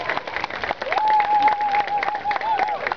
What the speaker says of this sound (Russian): Аплодисменты для них